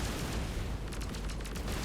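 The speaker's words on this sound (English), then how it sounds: "the sonic cannon actually destroys the land" Sonic cannon blasting and destroying terrain in the game Polaris, a continuous heavy rumbling roar with a burst of rapid crackling pops partway through, loud and steady.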